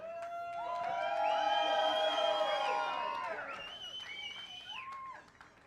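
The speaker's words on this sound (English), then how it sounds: "These guys really earned your cheers and applause." At the Race Across America 2023 finish line, crowd voices cheer and whoop for a racing team in long, rising and falling tonal shouts. The cheering swells and then fades toward the end, and it sounds moderately distant.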